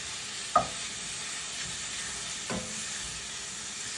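Shrimp and sausage pasta ingredients browning in a pan give a steady, fairly quiet sizzle and hiss, with two soft knocks of stirring.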